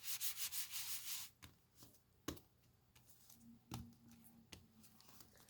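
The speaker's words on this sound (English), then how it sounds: "just take this and rub it over on the raised side" Soft rubbing of flat gold over the raised side of a piece, with quick scratchy strokes at first, then scattered faint taps and scrapes, close and quiet.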